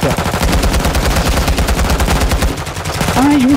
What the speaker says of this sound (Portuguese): Ai, um tiro.